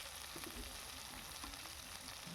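Tomatoes fry in a hot pan with a faint, steady sizzle and soft crackling from close by. No one speaks.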